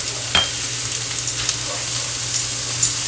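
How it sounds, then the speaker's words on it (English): About two tablespoons of butter melting in a hot pan, a soft continuous sizzle with a few sharper pops and clinks of a utensil, close and moderate in level, no one speaking. "So here I have about 2 tablespoons of butter. And we're going to put that in our pan."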